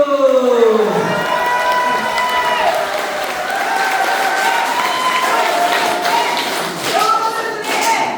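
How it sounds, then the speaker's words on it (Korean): Crowd at a political party members' meeting breaking into loud applause and cheering, dense clapping with shouts and whistles, close and sustained, mixed with voices calling out. "박수!"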